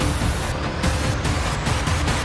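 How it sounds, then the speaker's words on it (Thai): A steady, loud exhaust rumble from a nearby idling Toyota Hilux Revo Z Edition pickup, with a constant low drone and a hiss spread across the whole clip. "นี่คือเสียงออกจากสายท่อครับ"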